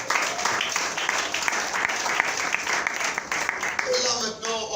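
A church congregation at a French-language service applauds to acclaim Jesus, producing steady, sustained clapping from a large crowd with scattered voices mixed in, moderately loud and continuous throughout.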